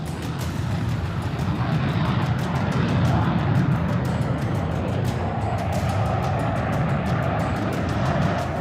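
Fighter jets roar over the Jodhpur desert during the Tarang Shakti 2024 air exercise, a loud, continuous broadband engine rumble that stays steady throughout with no talk.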